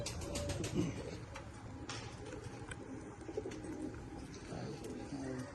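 Soft pigeon coos repeat at low volume, with light clicks and rustling around them in a quiet space.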